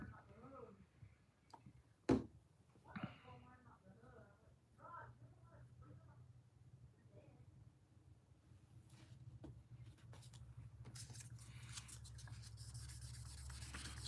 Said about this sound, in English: You let the sandpaper do the work for you.